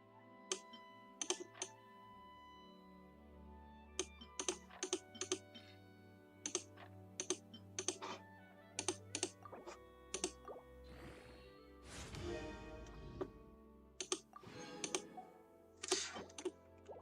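Quiet, close typing on a computer keyboard, with irregular bursts of key clicks and short pauses between them, set against a soft, low background tone from Genshin Impact.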